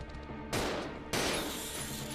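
Two sharp pistol shots from the Resident Evil Zero video game, loud and close, about half a second apart, each followed by a ringing decay.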